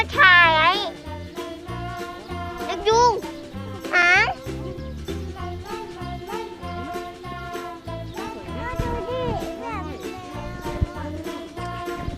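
A cat meows in a cafe, giving several short, rising meows early on. People talk over it, with light tinkling in the background.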